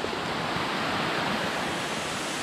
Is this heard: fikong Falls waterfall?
yes